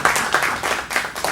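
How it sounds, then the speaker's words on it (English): Audience applause with a rhythmic, pulsing clap pattern, moderately loud and close, filling the short stretch after a panel discussion with no talk over it. "Give them a round of applause."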